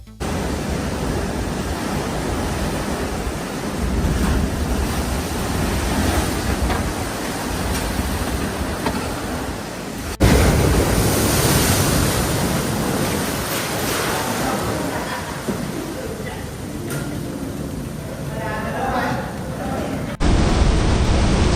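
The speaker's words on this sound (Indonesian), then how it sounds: "angin meraung, dan suara ombak bergulung memecah keheningan" Typhoon Fung-Wong in the Philippines: a loud, steady roar of wind and crashing surf fills the scene continuously, with a surge of heavier breaking waves midway; no clear speech is heard over the noise.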